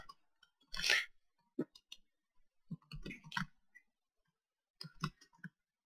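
Mouse button clicks while playing parkour in Minecraft, a few sharp, close clicks scattered in small clusters with silent gaps between them.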